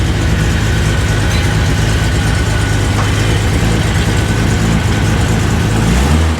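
A 1980 Datsun 280ZX with no muffler idles loudly up close, a coarse, rumbling engine note that stays steady throughout with a slight rise at the very end.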